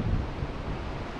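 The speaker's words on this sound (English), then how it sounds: "as you look along the beach here, you've got the waves coming in" Ocean waves breaking and surging on Muriwai Beach, an exposed surf beach with sandbars and channels, heard as a steady low roar of surf with wind buffeting the microphone throughout.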